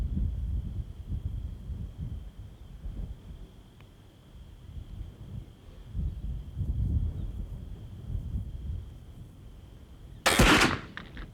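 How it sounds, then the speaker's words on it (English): A muzzleloader rifle fires once at an outdoor target range, a single sharp loud blast near the end following a long stretch of wind rumble and faint low noise. "That was a good shot offhand, Adam."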